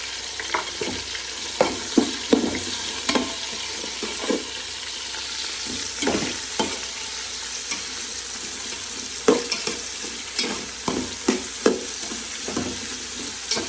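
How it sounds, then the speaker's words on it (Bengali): A spatula scrapes and knocks against a pan in repeated irregular strokes while food sizzles steadily underneath, close and without voices. "আমি একটু নাড়াচাড়া করে দেবো"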